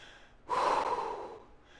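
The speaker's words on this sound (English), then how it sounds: "Quiet your breathing." A person breathes hard after a lower-body workout, one loud, close exhale that starts abruptly and tapers off over about a second, with quiet moments before and after.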